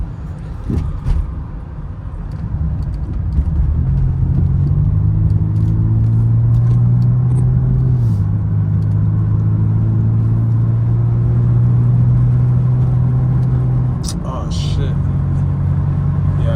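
A BMW M328 engine hums low and steady while driving, a continuous close rumble with slight pitch shifts as it revs, with someone talking over it.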